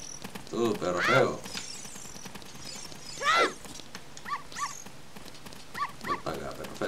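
Dog barking in the video game The Legend of Zelda: Ocarina of Time, with a few short yelping barks and whimpers spread out over the clip among quieter game sounds.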